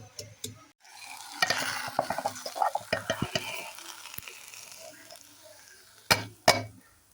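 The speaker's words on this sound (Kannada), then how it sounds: "ಒಂದು ಈರುಳ್ಳಿಯನ್ನು ಸಣ್ಣಗೆ ಕಟ್ ಮಾಡಿ ಎಣ್ಣೆಯಲ್ಲಿ ಫ್ರೈ ಮಾಡ್ತೀನಿ" Finely chopped onion fries in oil, a soft sizzle under repeated clicks and scrapes of a spoon stirring in the pan, with two louder knocks near the end; close and fairly quiet.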